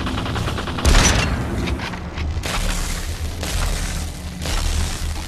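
Gunfire in the VR battle royale game Population: One comes as bursts of shots and booming impacts over a steady rumbling game backdrop, fairly loud and close.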